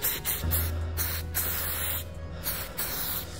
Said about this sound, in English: It's just a silicone spray.